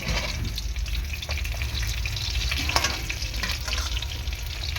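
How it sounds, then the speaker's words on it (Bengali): Fish frying in oil in a pan, a continuous crackling sizzle with occasional sharper pops and stirring scrapes, close and steady with no talking. "তো মাছগুলো মোটামুটি আমার ভাজা হয়ে গিয়েছে"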